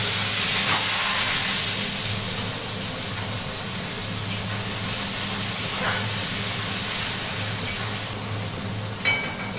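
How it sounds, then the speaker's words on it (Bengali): Onion frying in hot oil just after black cumin tempering, a steady close broadband sizzle and hiss running the whole time with a few faint clinks of stirring. "আর এখন এই পেঁয়াজটা একটু ফোড়ন করে দেব।"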